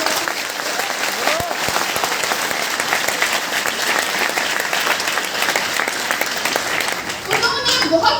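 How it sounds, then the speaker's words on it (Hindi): Audience at a success seminar in Gorakhpur bursts into sustained, dense applause, many hands clapping steadily for the full stretch, with a voice briefly audible near the end. "एक बार जोरदार तालियां चाहूंगी दिनेश कर्दम सर एंड रजनीश कुमार"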